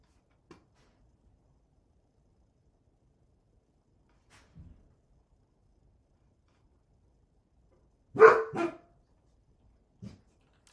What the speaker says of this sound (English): My dog might lose her mind in a second.